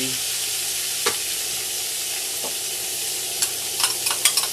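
Onion and pepper fry in a pan with a steady, loud sizzle, with a few sharp clicks and stirring taps toward the end.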